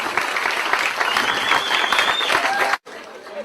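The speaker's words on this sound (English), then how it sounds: "I'd like you to all give her a nice round of applause." A theatre audience applauds a visiting actress from England at a show, with steady dense clapping that runs for nearly three seconds, then drops off abruptly into a quieter room.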